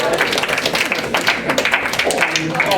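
A high school grad night audience at a hypnosis show cheers on a hypnotized volunteer, a dense, loud wash of shouting voices and scattered claps that holds steady throughout.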